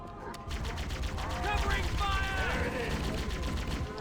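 Shotgun blasts in a modded Halo game, loud layered gunfire and impacts against Covenant elites running continuously over a dense background of combat noise and effects.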